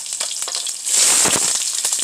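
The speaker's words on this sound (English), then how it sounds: "Put the onion and saute the onion first." Chopped onion sautés in a pan over high heat, a dense, steady crackling sizzle that swells louder partway through and holds close and prominent, with no talk.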